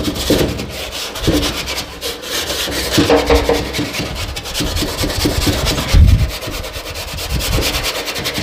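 Steady rough scraping as old coating is scratched off a Mustang car body, close and continuous with repeated rasping strokes and a few heavier knocks.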